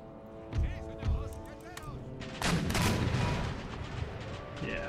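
Cannon and musket fire in the Empire Total War video game: scattered booming shots early on, then a denser crackling volley, with someone talking over the battle.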